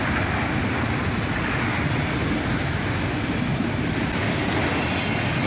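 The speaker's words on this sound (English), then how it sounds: "Another Autorack train, led by an ES44 ACH and an ET44" Steady, loud rumble and roar of an Autorack freight train rolling past close by, led by ES44AC and ET44 locomotives, with continuous broadband wheel and car noise and no break.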